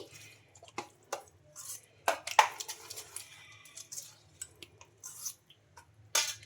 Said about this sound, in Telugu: ఇంకా ఇవన్నీ వేసుకున్న తర్వాత బాగా కలుపుకోవాలి బాగా పిండిలో మిక్స్ అయిపోయేటట్టు బాగా కలిపేసుకోవాలి